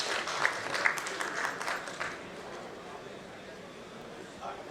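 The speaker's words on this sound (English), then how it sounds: "With a huge round of applause, ladies and gentlemen" Faint applause from a conference audience fills the first couple of seconds, then thins into light scattered clapping and room murmur.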